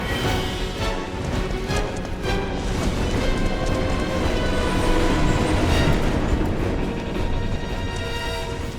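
Train rumbling along the rails in the Final Fantasy VII Remake video game, a dense continuous mechanical roar with rattling clatter, loud and steady throughout with no speech.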